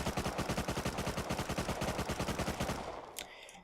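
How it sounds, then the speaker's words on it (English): MP5A4 submachine gun firing full-auto in the video game Rust, a rapid, even stream of loud close shots that stops cleanly, followed by a brief mechanical clink. "So the MP5 shoots a little bit faster."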